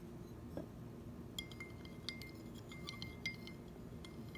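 Small sweets stirred into a glass of water ring out as light glass clinks, a few sparse taps scattered over several seconds against a quiet background.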